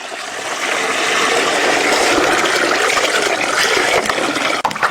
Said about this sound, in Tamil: தண்ணி ஊத்திக்கலாங்க.